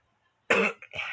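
A single close cough, followed quickly by a second shorter cough, in an otherwise quiet room.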